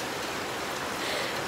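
Rain falls steadily on a tent at a campsite, a dense, even hiss of drops with no pauses, fairly close, and no voices over it.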